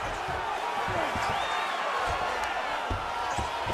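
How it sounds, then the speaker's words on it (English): A virtual arena crowd in a UFC fight simulation game roars in a continuous wash of cheering, with scattered thuds and whoops rising over the steady din. "huge pop from the crowd as the fighters get back up to their feet"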